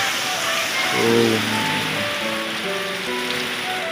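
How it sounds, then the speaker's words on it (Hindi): Steady broadband hiss of heavy rain pouring down near an old mud house, constant and enveloping, with faint tonal sounds drifting through in the background. "इतना तगड़ा पानी उधर देखो बारिश"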